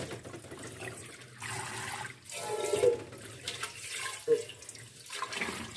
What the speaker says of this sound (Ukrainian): Я виливаю воду.